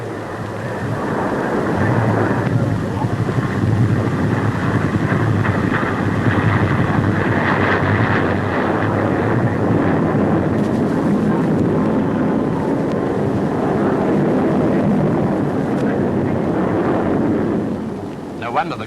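An English Electric Canberra jet trainer flies maneuvers at an air display, its engines a loud, continuous roar with slow swells and fades, alone with no talk.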